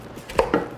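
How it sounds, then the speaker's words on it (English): A knife chops through fresh fennel bulbs on a cutting board in a home kitchen: two firm, close cuts about a beat apart, with no talking. "I'm gonna add 2 or 3 fennels here. Chop these up"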